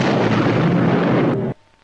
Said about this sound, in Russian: Взрыв сопровождался световой вспышкой необычной силы.